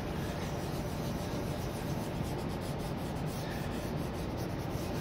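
Charcoal rubbed steadily across paper to blend shading on a skull-and-roses drawing, a continuous close, soft scratchy friction with no pauses.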